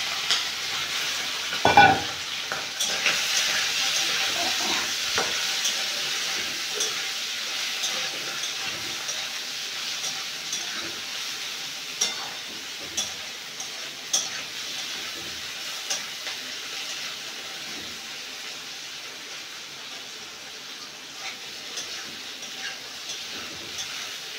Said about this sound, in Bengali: এখন চিংড়ি মাছগুলো দিয়ে দেবো।